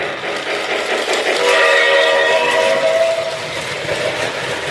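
Model train with smoke unit running on a home layout, a steady rumble of wheels on track topped by a sustained whistle tone lasting about two seconds, close and fairly loud.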